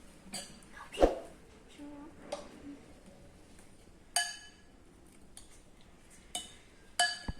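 A spoon mixing cake batter in a bowl, making sparse, quiet clinks and scrapes against the dish at irregular intervals.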